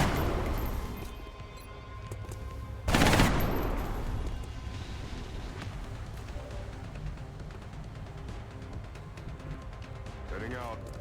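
Gunfire from the XCOM: Enemy Unknown video game: a loud burst hits early, rattles on briefly and then dies away into a low hum of game noise.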